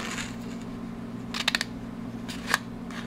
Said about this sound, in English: I get the tip of the scissors and I cut all the way to the score line.